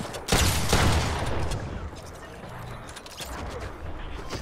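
Gunshots in a video game battle, a loud burst of firing early on, then a softer stream of shots and rumble that carries on under a speaking voice.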